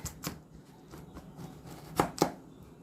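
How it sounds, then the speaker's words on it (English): A knife chops carrots on a cutting board for a squash casserole, steady close thuds that build to two sharper, louder cuts near the end, with no talking. "Chop up some carrots and get these boiling"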